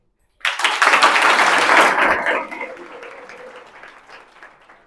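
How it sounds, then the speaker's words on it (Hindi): A classroom audience of students bursts into loud, dense applause for their teacher, holding strong for about two seconds before thinning into scattered, fading claps. "तो मेरे लिए ताली।"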